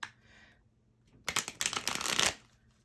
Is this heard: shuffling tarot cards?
yes